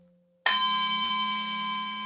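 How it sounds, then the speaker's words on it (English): Buddhist prayer bell struck once after a faint fading earlier tone, giving a sudden bright metallic strike whose shimmering overtones and low hum sustain evenly and close, with no talking. "Buddhist prayer bell."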